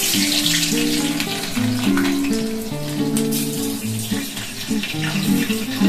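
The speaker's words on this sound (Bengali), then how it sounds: "তেলটা গরম হয়ে গেছে এখন আমি আলুর টুকরো গুলো তেলে দিয়ে দিচ্ছি" Potato pieces dropped into hot oil in a kadai, a constant bubbling hiss of frying under a steady melodic music track.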